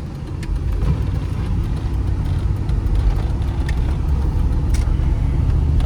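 A 1995 GMC Yukon 1500 engine and exhaust run steadily, a smooth low rumble heard close with a constant even drone and no revving.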